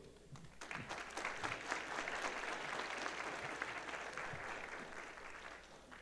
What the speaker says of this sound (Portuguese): E o aplauso de vocês, então, para o desembargador do Trabalho, Ricardo Tadeu Marques da Fonseca